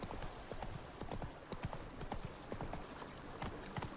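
Roach, the horse in The Witcher 3, gallops with rapid rhythmic hoofbeats that clop steadily and fairly close throughout, heard alone with no talk.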